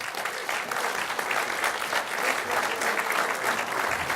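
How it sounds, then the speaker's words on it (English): Steady applause from a crowd at a CSM panel at EVE Fanfest 2012, loud and continuous throughout, with no pauses. "I love applause. This is great. Keep it up."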